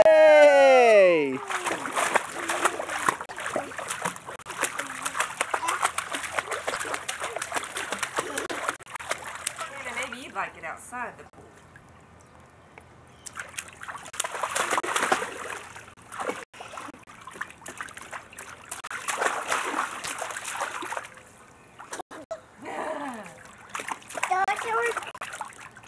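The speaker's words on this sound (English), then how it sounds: "Sarah, don't splash Hannah, please." Children splash and slosh in water, with bursts of splashing and trickling broken by short quiet gaps, while kids and an adult talk throughout.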